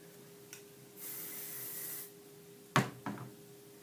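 Hairspray sprayed onto hair pulled up for a competition dance hairstyle, one continuous hiss of about a second, followed by a couple of sharp rustles and thumps from handling.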